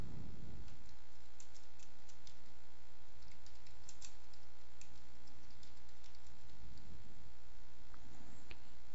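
Fingers type an address on a computer keyboard, a run of light, quick key clicks over a steady hum of background noise.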